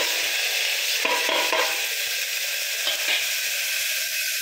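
Green chilies, tomato, chili powder and turmeric sizzle together in hot oil for dal, a steady loud frying hiss broken by a few short stirring scrapes near the start and middle.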